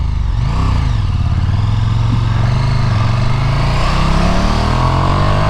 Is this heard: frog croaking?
no